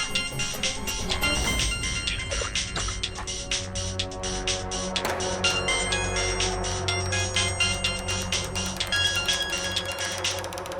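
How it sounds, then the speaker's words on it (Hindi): A phone ringtone plays continuously and loudly, a bright repeating electronic melody with no talking over it. "किसी का फोन आ रहा है बार बार"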